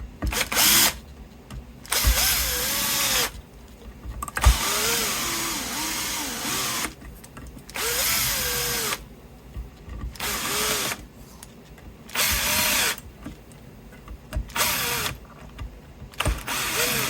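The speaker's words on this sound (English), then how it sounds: "Ruined it with my drill." An electric drill bores into a guitar in about seven close, loud bursts of whining, ratcheting motor noise separated by short pauses, with no talking.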